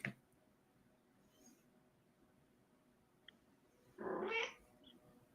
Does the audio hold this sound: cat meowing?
yes